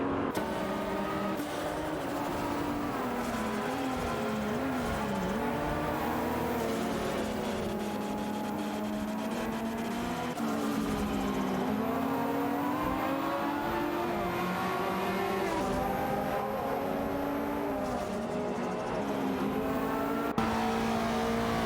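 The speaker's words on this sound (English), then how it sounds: "Aetion 1792 has successfully advanced to P13 after executing a clean overtake on Polo Costani." Engines of race cars in an AI-driven racing video game drone continuously, pitches rising and falling with gear changes as cars overtake, a steady layered motor roar with no talking.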